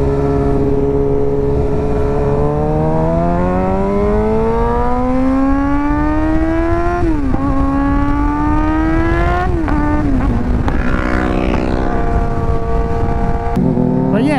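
Suzuki GSX-R 600 sport motorcycle with aftermarket mods at full throttle, loud and close, the engine note climbing steadily through the revs with a few quick upshifts that drop the pitch before it rises again.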